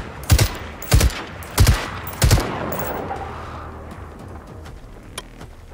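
Four loud, sharply spaced gunshots ring out at a steady pace in the Generation Zero video game, fired at a target up in a tree, each crack trailing into a long outdoor echo before the scene falls quiet.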